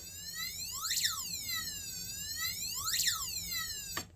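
A high electronic passive buzzer driven by an Arduino sweeps up and down in pitch like a police siren, two wailing cycles, then cuts off abruptly.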